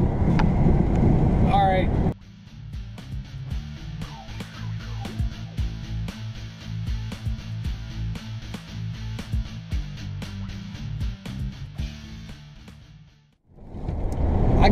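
A Class B RV cruising down the road, a steady low drone of engine and road rumble with some wind noise, bracketed by brief talking at the start and end.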